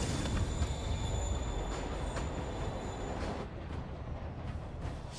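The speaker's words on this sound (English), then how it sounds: "train's moving." A moving train in the Spider-Man Remastered video game rumbles steadily with rail clatter and wheel squeal, loud and continuous with no talking over it.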